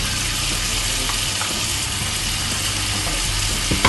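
Pickled mustard greens are stir-fried in a wok of meat sauce with bean paste, oyster sauce and satay sauce, giving a loud, continuous close sizzle with faint scraping stirs throughout.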